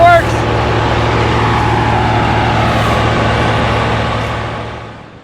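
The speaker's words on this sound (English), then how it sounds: "they're blowing out our well" Heavy equipment blowing out a water well at a mountain home makes a loud, steady roar with a low engine hum. It holds level, then fades toward the end, and there is no speech.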